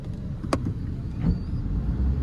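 A car reverses at close range with a low engine hum and road rumble. A brief sharp squeak comes partway through, followed by a rising whine, with no talk over it.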